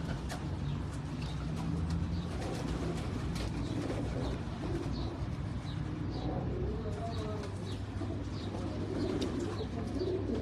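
Pet pigeons coo softly in repeated low, throaty phrases over a faint background with scattered chirps and light rustling, the birds sounding close but quiet.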